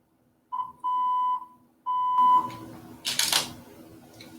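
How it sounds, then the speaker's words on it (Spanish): A camera's autofocus gives a few sharp, close electronic beeps, one short and two longer tones at the same pitch, followed by a burst of clattery handling noise. "lo que hizo la cámara es un pitido, hace un pitido muy particular que enfoca, congela el enfoque"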